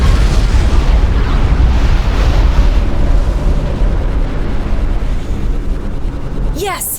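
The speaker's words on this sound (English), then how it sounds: "The Colossus is down! The bigger they are, the bigger their explosion." A giant Colossus experimental robot exploding in the strategy game Supreme Commander 2, a loud sustained rumbling blast with heavy low roar throughout, a voice speaking over it near the end.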